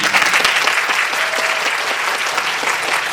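Dense, sustained audience applause fills a film guest-visit screening talk for the Korean movie 군체, steady and loud from start to finish with no pauses.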